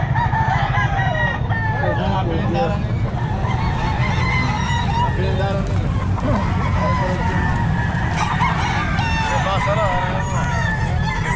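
Boston Sweater gamefowl roosters crow repeatedly at a busy pet market in Calumpit, overlapping calls rising over a dense crowd hubbub, with geese honking and hens clucking in the mix while people talk throughout.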